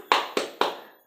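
A school class doing a spirit-clap rhythm: three sharp, crisp group claps in steady succession, each with a short ringing decay, no voices.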